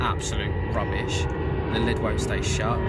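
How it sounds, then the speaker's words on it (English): A fixed-wing airplane passes overhead beside a lake during a carp fishing session at Wraysbury, its engine a steady drone under close talking. "sorry about the plane."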